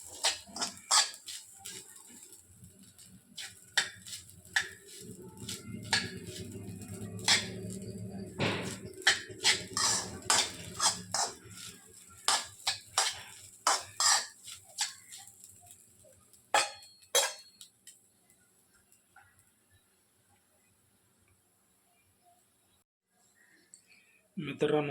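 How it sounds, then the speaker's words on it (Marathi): A spoon stirs sabudana (sago pearls) in a pan on a gas stove, making a long run of light, irregular clicks, taps and scrapes that thin out and fade toward the end. "हे असा आपला साबुदाणा असा गॅसवर असल्याच्या नंतर असा हलवायचा।"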